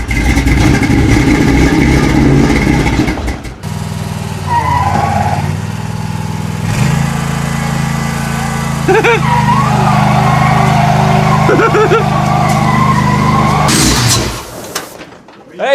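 A truck's engine runs steadily and loudly as the truck rolls, with a low continuous drone, a shift in tone partway through and people talking over it.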